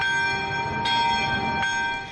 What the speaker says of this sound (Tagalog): Pinatunog din doon ang kampana